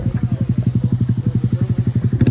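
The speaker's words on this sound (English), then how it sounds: "But there's also motorcycles." A motorcycle idles close by at a car meet, its engine firing in a loud, even, rapid pulsing thud for the whole stretch, with a brief clatter at the end.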